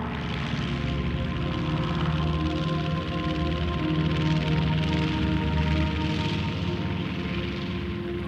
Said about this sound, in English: Wave after wave of fighter-escorted bombers headed for the ships and harbours of southern England.